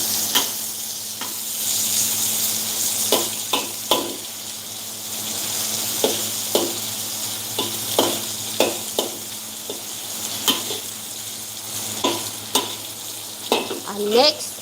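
Ginger frying in a pan for tilapia in coconut milk: a continuous close sizzle broken by regular sharp scrapes and taps of a spatula, with no one speaking.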